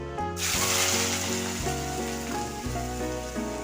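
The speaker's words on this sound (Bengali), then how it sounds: "এদিকে আলু আর কুট্টিটা ভেজে নিব" Potatoes frying in a pan at home, a steady broadband sizzle that swells loudly after a brief quiet start and holds close and continuous with no talk, a few faint clinks underneath.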